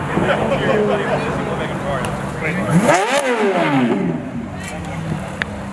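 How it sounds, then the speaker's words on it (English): A Ferrari F430 Spider with an aftermarket exhaust revs hard and drives off from a car meet, its rising and falling engine sweeps loud and close before fading, over background chatter. "Ferrari F430 Spider leaving."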